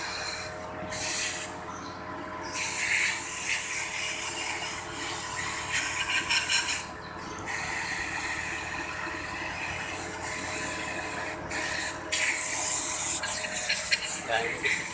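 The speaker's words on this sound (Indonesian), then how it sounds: "Nah, kita semprot angin dulu lagi." Compressed air blasts through the oil holes of a crankshaft being cleaned in a workshop, loud hissing bursts starting and stopping several times over a steady noisy background.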